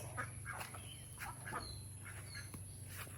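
Ducks quacking in short repeated calls as a group walks past outdoors, moderately near over a steady low background hum, with no talk.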